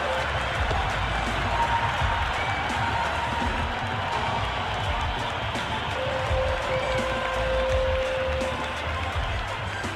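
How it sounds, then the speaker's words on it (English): Raucous crowd at an IPL cricket match between Lucknow Super Giants and Kolkata Knight Riders, a dense continuous roar of cheering and noise filling the stadium, steady and loud throughout. "The crowd are really getting quite raucous."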